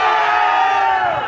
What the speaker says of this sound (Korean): 함성 한번 질러볼까요? 이 오이도가 떠나가게.